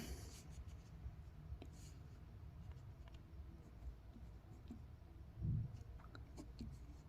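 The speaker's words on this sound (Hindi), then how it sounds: "तो यहाँ पर लिखेंगे" Marker or chalk writing on a classroom board during a maths lesson, with soft, steady scratchy strokes heard close over a constant low room hum.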